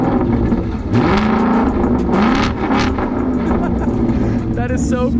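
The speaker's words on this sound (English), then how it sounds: "Start the car, and then check this out." A 2024 Ford Mustang GT V8 starts up loud and close, settling into a rumbling idle after a brief rev, with a person talking over the engine noise.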